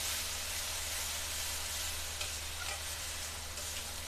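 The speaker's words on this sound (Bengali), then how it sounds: "আমার এই মশলাটাকে ভালো করে কষিয়ে নিতে হবে" A paste of ground onion and green chilies is fried and stirred in a pan for a Bengali yogurt fish curry, with a dense, loud, continuous sizzle and occasional faint scrapes.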